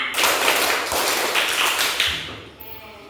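Students in a classroom clap together in a dense, steady rhythm, loud and close, the claps tapering off near the end with a few scattered taps; faint voices mingle underneath.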